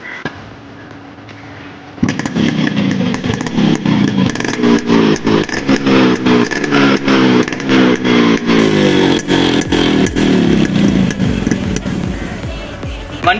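A Yamaha RX100 motorcycle engine starts and then runs loud and close, with a rapid two-stroke popping and clattering idle that carries on steadily with no talking.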